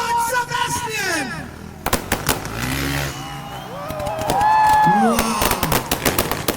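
Firecrackers go off at an outdoor freestyle motocross show in Kochi, sharp cracking bursts in quick clusters and scattered single pops, loud against crowd noise and a commentator's voice.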